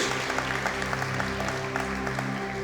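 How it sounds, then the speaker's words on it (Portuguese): Church congregation clapping during a sermon, soft scattered claps over a sustained hum of background music or organ tones. "pode aplaudir o Senhor, em nome de Jesus"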